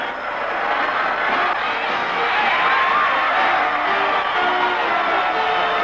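Football stadium fans at a 1965 San Diego Chargers game give a standing ovation, a loud, steady crowd roar of cheering and whooping that holds throughout.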